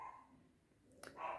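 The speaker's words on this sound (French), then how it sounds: "ce qui m'énerve, c'est le bruit de mon chien qui l'aboie pour rien" A pet dog at home gives a brief bark or yip, a short sharp burst followed by a louder, fuller bark near the end, with quiet room tone before it.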